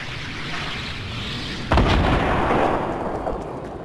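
A bazooka explosion in Fortnite bursts out as one loud, booming blast with a heavy low rumble that decays over about a second, standing out from a background of game noise.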